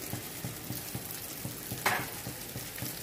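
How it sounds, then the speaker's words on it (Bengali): A fish spice paste fries in a pan with a continuous close sizzle, broken by regular soft stirring pulses and one brief sharper spatter. "ওদিকেও মশলা কষা হচ্ছে, ওটা মাছের মশলা কষা হচ্ছে।"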